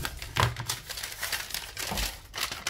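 Tape wrapped around a sublimation mug is cut close up, with a burst of crinkling, snipping and rustling noises at an uneven rhythm and no voices.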